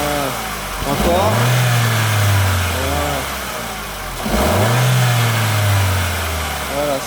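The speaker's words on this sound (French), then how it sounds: "Accélère franchement un petit coup." Car engine revving hard twice, each sweep climbing in pitch and then falling back to idle, loud and close with a steady mechanical rumble between the pulls.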